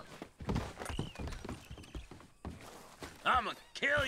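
Horse hooves clip-clop in the Red Dead Redemption 2 video game, mixed with sparse mechanical clatter and a brief whinny-like tone. The hooves sit under ongoing game speech and effects.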